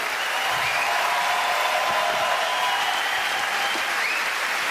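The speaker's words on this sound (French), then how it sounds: "Applaudissez Mélanie, mesdames et messieurs" A theatre audience at a French-language comedy show applauds steadily and loudly for a performer named Mélanie, one dense wash of clapping that holds at an even level throughout.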